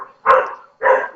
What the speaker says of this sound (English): I'm sorry for the background noise. My dogs are barking.